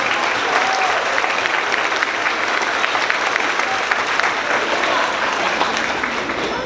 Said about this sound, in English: let's give the 5th graders another round of applause.